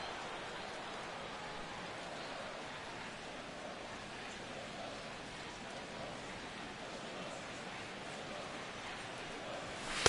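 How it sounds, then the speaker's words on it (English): Heavy rain falling on a baseball field in MLB the Show, a steady, even wash of dense rain noise held constant from start to finish. "That rain is really coming down now. That's as hard as it's been all afternoon."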